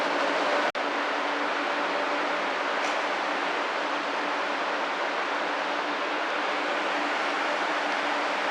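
A conventional train rolls along the rails on a Japanese line, a loud, steady broadband rumble heard from on board, with one brief dropout near the start.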